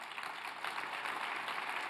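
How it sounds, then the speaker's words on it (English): Audience applause at a talk honoring Ambassador Andrew Young, a dense steady patter of many hands clapping at moderate distance, continuous for the whole stretch with no voices over it. "And I think Ambassador Young deserves multiple applause for all of us."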